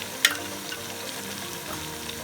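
Crushed garlic and ginger sizzle in hot oil in a pan for chana dal with ridge gourd, a steady close frying hiss with a brief sharper spatter near the start.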